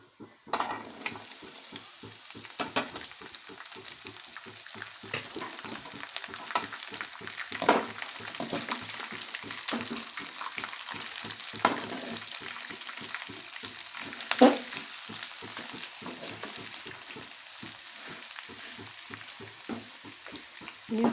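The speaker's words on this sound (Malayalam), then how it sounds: "ഇനി നമുക്കതിലേക്ക് അരിഞ്ഞു വെച്ചിരിക്കുന്ന സവാള പച്ചമുളകും ചേർത്തിളക്കാമേ" Chopped onions and green chilies are stirred into coconut pieces frying in a pan: a steady crackling sizzle under brisk, repeated scraping and clinking strokes of a spoon against the pan.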